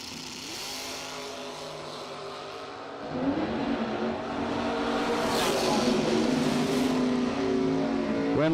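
Drag racing Mustang at the American Door Slammer Nationals, a loud engine roar swelling sharply about three seconds in and holding a harsh, rising drone with gear-like pitch sweeps, over a steady crowd-and-track background.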